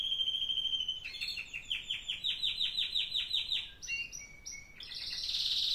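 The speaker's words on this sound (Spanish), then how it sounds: "El verde es un señor pájaro también." A songbird sings a varied, rapid song of repeated chirps and trills at changing pitches, clear and fairly close, with no talk.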